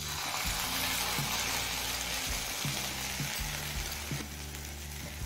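Steady sizzling of taro stolons frying on low flame in a pan as poppy seed paste goes in, with low clunks and scraping stirs against the pan under the continuous crackle.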